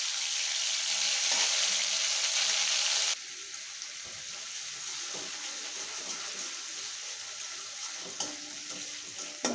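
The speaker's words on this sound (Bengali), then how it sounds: "এখন আমি কালো জিরে তেলে দেব" Black cumin, ground cumin, black pepper and green chilli hit hot oil with a loud, steady hiss that settles into a lower, continuous sizzle, while bubbling crackles go on close up.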